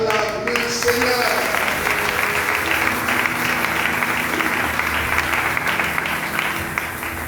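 Sustained applause from a church congregation fills the space, loud and continuous, with voices and music layered underneath the clapping.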